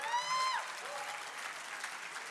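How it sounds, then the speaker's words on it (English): At an equality awards gala in Palm Springs, an audience gives a sustained round of applause; a voice briefly trails off at the start before the even clapping carries on alone at moderate distance. "Give yourselves a round of applause."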